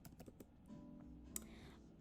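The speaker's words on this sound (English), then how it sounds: "let me just type it in for you" Quick keystrokes typing a website address on a computer keyboard, a fast patter of soft clicks close by in a quiet room.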